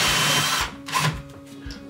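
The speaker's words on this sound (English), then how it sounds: "Drill." A power drill bores a hole into drywall while a cavity wall anchor is fitted for a towel rail. It makes a loud, steady whirring burst up close, then cuts off to a quieter tail.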